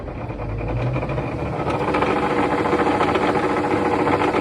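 A tractor engine runs steadily with its PTO engaged, a rough, vibrating drone and a knocking undertone, loud and close, without speech; the tractor shakes slightly out of balance.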